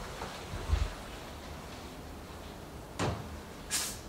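A bedroom wardrobe door is handled, giving a soft low thump early on, then a sliding rumble and a brighter click or knock near the end, all fairly quiet over room hiss.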